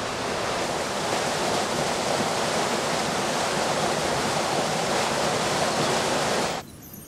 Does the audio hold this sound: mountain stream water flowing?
yes